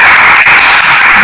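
Audience applause for a lecturer at an online career and MBTI counselling session, heard as a steady, loud, dense wash of clapping with no pauses.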